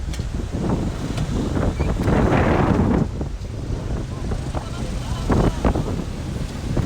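Strong wind blusters steadily against the microphone, rising into a louder gust midway, while people talk faintly beneath the rushing noise.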